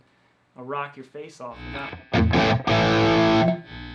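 An electric guitar played through an overdrive distortion pedal into an amp with slight breakup. Someone speaks briefly, then loud, sustained, crunchy distorted chords ring out with short gaps between strums.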